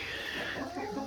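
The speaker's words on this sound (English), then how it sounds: "some chickens coming in here and ending their day and getting ready for bed" Chickens cluck softly while coming in for the night, a few faint, close, irregular clucks over quiet background, with no talk.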